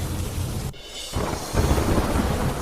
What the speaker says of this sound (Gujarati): અમરેલીમાં ધોધમાર વરસાદ